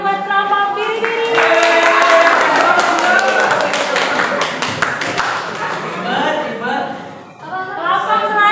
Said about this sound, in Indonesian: tepuk tangan buat kelompok Biri-Biri